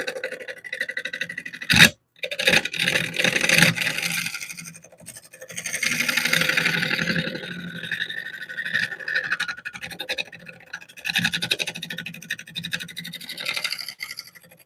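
A lathe tool scrapes and chatters against a large hardwood oak bowl mounted on a faceplate, giving irregular, close rasping bursts with a sharp knock early on and short lulls between passes.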